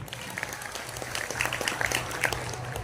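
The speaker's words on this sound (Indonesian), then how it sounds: "Ya, tepuk tangan." Students at SMAN 2 Subang applauding during a school morning gymnastics assembly, with steady dense clapping throughout, fairly loud and close, with scattered voices in the crowd.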